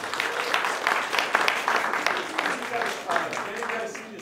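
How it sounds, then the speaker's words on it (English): An audience at a public lecture on native species and ecosystems breaks into moderate applause, with voices murmuring beneath the clapping. "So just a big round of applause for them."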